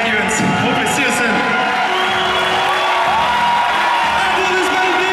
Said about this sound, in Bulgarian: Аплодисменти за Петър Пилат от Чехия.